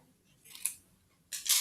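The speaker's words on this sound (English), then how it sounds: "So we're just going to snip that." Scissors snip through a folded paper towel in two quick, crisp cuts, one small one and then a louder one, heard alone and close up.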